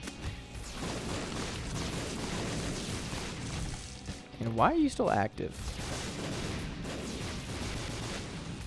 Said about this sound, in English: Like that explosion was on top of you